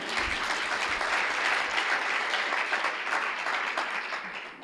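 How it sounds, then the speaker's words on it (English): A festival audience breaks into applause, a full, steady wash of many hands clapping that holds strong, then begins to thin and fade near the end. "I hope that says applause."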